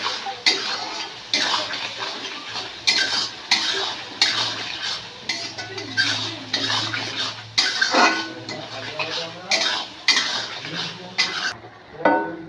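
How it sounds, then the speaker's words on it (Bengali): Ginger-garlic paste and chili being stirred in a pan with repeated scraping strokes of a spatula against metal, rhythmic and close, with a faint sizzle underneath. "একটু ভালো করে নাড়াচাড়া করে নেবো, কাঁচা গন্ধটা যাতে বেরিয়ে যায় আদা রসুন বাটার।"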